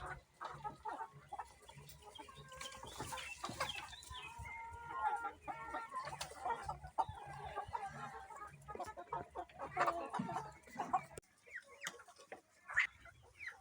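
Hens and roosters in a henhouse cluck and squawk in irregular, overlapping bursts at close range, moderately quiet, with a few louder calls.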